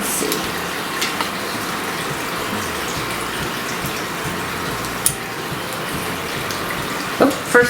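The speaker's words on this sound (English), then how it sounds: "let's fill up the water" Tap water pours steadily into the tank of a Hello Kitty humidifier diffuser, a continuous close gushing fill that ends with a few small knocks and splashes.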